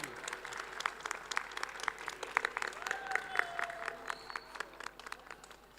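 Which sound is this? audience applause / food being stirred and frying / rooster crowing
audience applause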